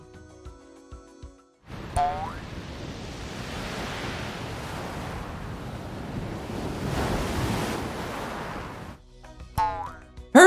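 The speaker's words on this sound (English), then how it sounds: "Keep your ears open. We'll hear the sea." Sea waves surge and wash in a broad, continuous roar for about seven seconds, swelling louder toward the end before cutting off, with no talk over them.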